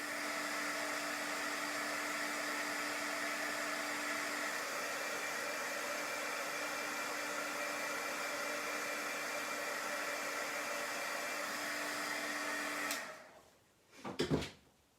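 A hair dryer blows steadily for about thirteen seconds, drying chalk paste on a transfer, then switches off, and a few handling knocks follow.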